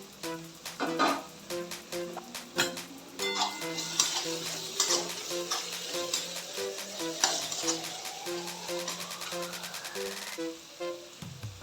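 Onion and tomato frying in a pan for a leftover-chapati chivda, with coriander going in; steady close sizzle broken by repeated sharp spoon-and-pan clinks and stirring scrapes, no talking.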